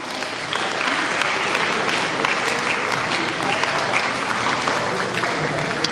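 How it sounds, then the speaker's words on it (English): Audience applauding a guest at a school's 30th annual sports day celebration, a loud, sustained crowd clapping that begins after a brief pause and carries on steadily with faint voices mixed in. "Please give him a huge round of applause."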